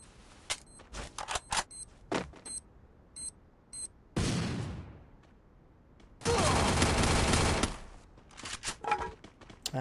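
Bursts of gunfire in the mobile battle-royale game Free Fire: scattered single shots and short volleys, then a sustained loud burst of automatic fire lasting a couple of seconds, followed by more sporadic shots; no speech.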